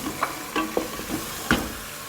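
Meat frying and being stirred in a new pressure cooker, with a handful of scraping stirs at an uneven pace over a soft, steady sizzle, heard close up and without talk.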